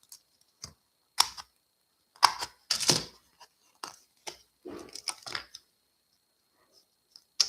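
Scissors snip through a strip of dimensional adhesive foam squares at a crafting table: several short, crisp cuts and clicks spaced irregularly, close and fairly quiet, with no talking.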